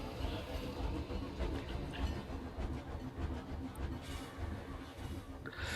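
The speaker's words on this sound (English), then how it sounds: "we're going to follow the train back to the station" Rumbling rattle of a train running in the video game Planet Coaster, a continuous clickety-clack at moderate distance with no speech.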